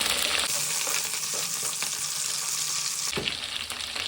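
Onions, green chilies and curry leaves fry in a pan for spicy fish curry, a loud, close, continuous sizzle with brief stirring scrapes and no talk.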